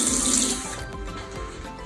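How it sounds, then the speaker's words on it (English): Tap water runs steadily into a bowl of pancake mix with an egg, a brief even splash and trickle, close and fairly loud at first, then softer. "add a little bit of water"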